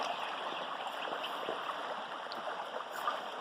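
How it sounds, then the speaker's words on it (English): Irrigation water runs steadily through an acequia channel beside bean fields in a rural village, making a soft, continuous rushing and gurgling with no voices. "When we water, we open the gate and this floods into our fields"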